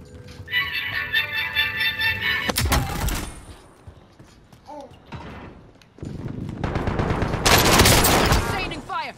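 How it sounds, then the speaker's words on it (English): Gunfire in a shooter game, loud rapid bursts of automatic fire in two long stretches separated by a brief quieter pause, with players talking over it. "Keep shooting."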